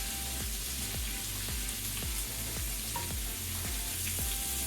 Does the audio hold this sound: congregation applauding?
no